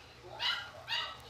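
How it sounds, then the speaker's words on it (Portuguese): Two short dog barks about half a second apart, moderately loud and slightly distant, over a quiet background. "meu cachorro começou a latir de novo"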